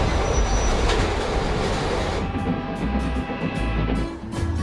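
Rolling rail noise from a Pullman sleeper train car, a loud steady rumble of wheels on track with rhythmic clatter and faint squeal, close and continuous.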